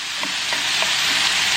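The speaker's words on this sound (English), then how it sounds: "That sizzle though" Onions dropped into hot oil in a pan sizzle and crackle loudly and continuously, with a few soft pops and stirring sounds over a dense hiss.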